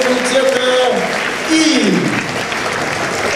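An audience applauds a lecturer from the laser technology faculty at a university event, steady clapping filling the room while people talk over it.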